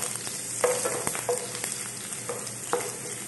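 Garlic sautés in oil in a pan for ginataang chicken with squash: a quiet, continuous sizzle broken by light, periodic stirring strokes, with no voices.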